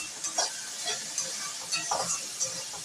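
Ginger, garlic and dried red chillies fry with browned onion in hot oil, a steady sizzle broken by several scraping stirs of a spatula in the pan, close and moderately quiet, with no talking.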